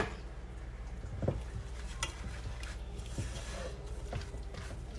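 Ingredients for a layered Italian casserole, pasta with sour cream and spices, being stirred together in a dish, with steady scraping and mixing strokes, a few sharper clinks against the dish, and no talk.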